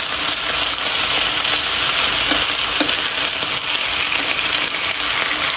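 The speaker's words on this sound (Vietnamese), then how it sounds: "Thịt bò thì mình chiên nó mau chín hơn" Beef frying in a pan, a steady loud sizzle and crackle of hot oil with occasional spatter pops, continuous and close with no talking.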